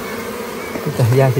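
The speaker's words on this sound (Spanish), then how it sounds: "Las abejas, ¿qué pasa con ellas que están ahí?" Bees swarming at a wild honey hive inside a cave, a dense close buzzing drone throughout, with a voice speaking briefly near the end.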